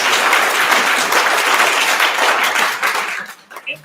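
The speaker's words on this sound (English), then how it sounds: "Let's give them a round of applause." A public schools forum audience breaks into steady, dense applause that fills most of the moment, then thins and tapers off toward the end.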